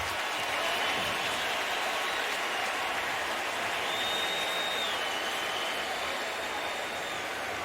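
A stadium crowd at a 2014 Redskins at Cowboys football game cheers and applauds as the injured Cowboys quarterback Romo gets back to his feet, a broad continuous roar of clapping and noise from far off.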